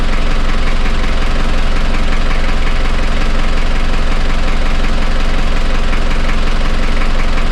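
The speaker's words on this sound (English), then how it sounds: "I'm gonna let her idle for a little bit" Boat engine idling, loud and close, a steady unbroken chugging drone with a rhythmic knocking pulse that holds constant from start to finish.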